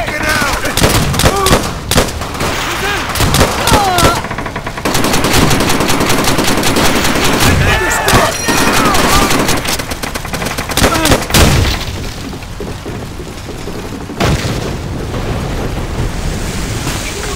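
Machine gun fire rattles in Call of Duty: World at War. It comes in loud, dense bursts mixed with heavy explosions and then thins out near the end, with brief voices shouting in the mix.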